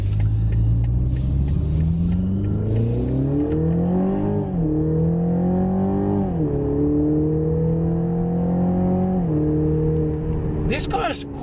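A BMW Z4 20i in sport mode accelerates hard, its engine note climbing steadily through several gears with brief drops at each shift, loud and close from inside the car, with a voice talking over it.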